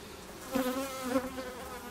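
Honeybees buzz in an open hive during an inspection, a close, steady hum rising briefly louder twice over a couple of seconds, alone without talk.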